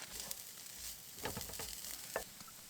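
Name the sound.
chopped bacon and minced garlic frying while camping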